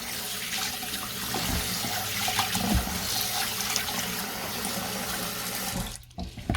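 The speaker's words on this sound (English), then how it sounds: "I'm washing my rice with warm water." Steady rushing of warm running water into a basin as rice is washed, continuous and close, with faint clinks and sloshes, ending in a brief pause.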